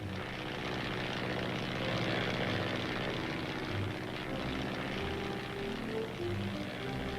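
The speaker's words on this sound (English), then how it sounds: "the plane starts moving across the airstrip" Continuous propeller aircraft engine drone as the plane taxis across an airstrip, moderately loud and fairly steady, with a throbbing low rumble.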